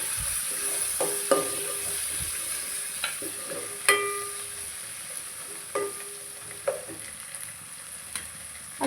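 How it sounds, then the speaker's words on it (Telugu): Onions, mint and coriander fry in oil with a steady close sizzle, broken by occasional stirring clinks and scrapes of a utensil in the pan. "ఇవి కూడా నూనెలలో ఫ్రై చేసుకోవాలి"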